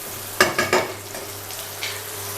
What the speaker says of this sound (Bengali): এগুলো আমি সব এর মধ্যে দিয়ে দিলাম বাটারটার মধ্যে। এগুলোকে আমি একটু নাড়াচাড়া করে ভেজে নিয়ে